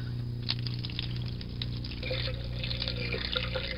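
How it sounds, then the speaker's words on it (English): Warm water runs from a sink tap in a steady, gentle stream with small splashy variations, fairly quiet and close, with no voices. "I can draw warm water"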